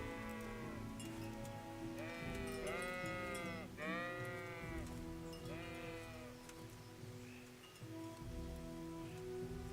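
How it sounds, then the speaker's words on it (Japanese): Sheep bleat in the medieval game Kingdom Come: Deliverance, several wavering calls in a row over a steady bed of rain-like ambience and wind. "あ、羊だ。"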